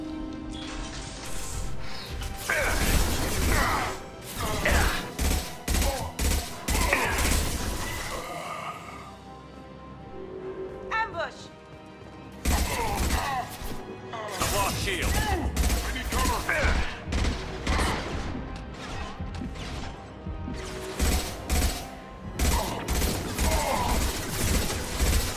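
Rapid bursts of armor-piercing gunfire in the Mass Effect 2 shooter game, with repeated sharp volleys through most of the stretch, a short lull in the middle, and steady loud combat noise around them.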